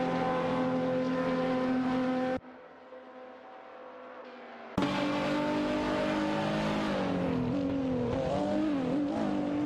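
Engines of a Maserati MC12 Daytona and other GT cars in an AI-driven racing video game, with steady high-pitched droning tones that shift in pitch, a brief drop to quieter engine noise in the middle.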